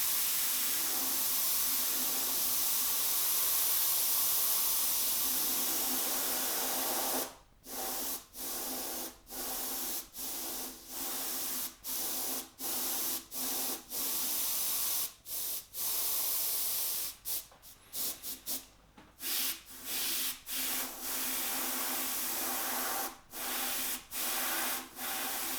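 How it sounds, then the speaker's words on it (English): An airbrush spraying dark gray paint on a Trek Speed Concept triathlon bike part hisses continuously, then sprays in short repeated bursts with brief silent gaps between them, close and fairly quiet. "I will spray a shadow behind this tail to divide it from the stripes"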